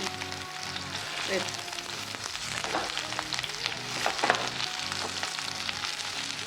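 Ridge gourd peel and a small piece of ridge gourd fry in a little oil for a gongura and sesame chutney, giving a steady, close, hissing sizzle with faint crackles and a quiet voice in the background.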